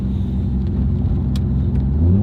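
A 3-rotor Mazda RX7 with a 75mm turbo drives on the street, its rotary engine giving a loud, steady low rumble that swells slightly toward the end.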